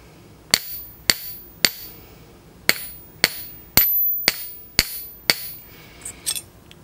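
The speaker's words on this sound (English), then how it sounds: "So I'm going to strike it a couple times" Hammer striking a metal belt buckle ring of 14 gauge on an anvil, with nine sharp ringing metallic blows at an uneven, steady pace, each leaving a brief bright ring, close and distinct with no talk.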